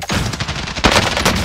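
Rapid video game gunfire, dense overlapping automatic bursts, loud and continuous throughout.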